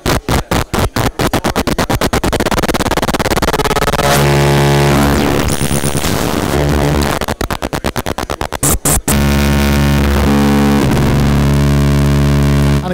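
Harsh electronic static and crackling spark textures from Gamechanger Plasma Voice synth modules, loud and distorted, with stuttering rapid bursts giving way to sustained buzzing drones that break up into choppy pulses again.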